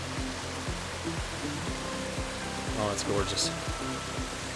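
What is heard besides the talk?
stream water flowing after rain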